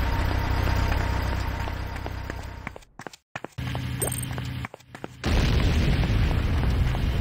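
Explosions and heavy booms as a GDI Tiberium refinery is destroyed in the Renegade C&C video game, a loud rumbling roar broken by sharp bursts, then a sudden louder blast.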